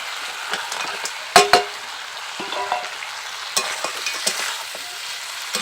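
Sea crab stir-fries in a pan with fried potato and capsicum, a close sizzle broken by sharp scrapes and knocks of the spatula, with a couple of louder clacks early on.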